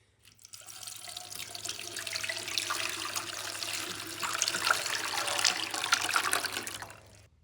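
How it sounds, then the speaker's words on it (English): Water pours steadily from a tap into an ultrasonic cleaner tank holding bolts in dish soap, a continuous splashing fill that builds for several seconds and then stops abruptly. "We're gonna add some water to it and fire it up."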